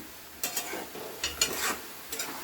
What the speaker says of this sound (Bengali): এইভাবে ভালো করে ফ্রাই করতে হবে এটা।